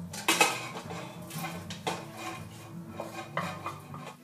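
Sautéed vegetables tipped into a pot holding okra, Guinness, rice and garlic for a vegetarian jambalaya, then stirred: scraping and clinking of utensil against pot, with repeated soft knocks and stirring noises, close and moderately loud, no talking.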